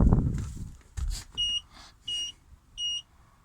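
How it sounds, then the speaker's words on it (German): Three short electronic beeps from a cabin scooter's seat warning, in a regular pattern, fairly close, with a few quiet clicks and thumps between them and no talking. "jetzt piepst er, weil ich gerade nicht auf dem Sitz hocke"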